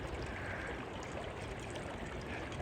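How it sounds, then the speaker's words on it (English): Holcomb Creek flows with a continuous, even rushing and babbling of water that holds steady throughout, moderately close and with no voices. "I'm enjoying Holcomb Creek."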